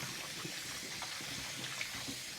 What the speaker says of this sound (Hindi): ये चिकन को हमने काट लिया, अब इसको हमने साफ़ सुथरा वॉश करना है